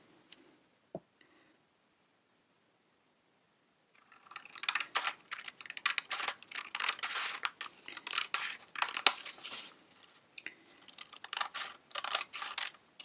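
Scissors cutting a paper pattern for an adult face mask: after a few quiet seconds, a dense run of crisp snipping and rustling close by, continuing in bursts with brief pauses and no talking.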